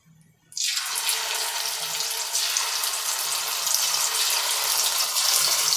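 After a short quiet moment, chicken 65 pieces go into hot oil over a medium flame and burst into a loud, continuous close-up sizzle that keeps building slightly, with no talking.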